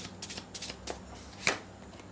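Tarot cards shuffled by hand in quiet surroundings, several soft riffling bursts close by and at a low level, with no talk.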